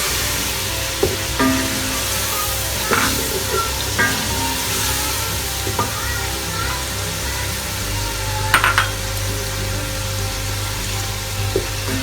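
Masala with tomatoes, turmeric and red chilli fries in a pan for kari pakora, a steady low sizzle with occasional soft stirring clicks and scrapes, no talking.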